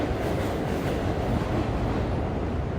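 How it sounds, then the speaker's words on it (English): A train rolls across a bridge close by, a loud, continuous rumble and rattle that holds steady from start to finish. "And here comes another train."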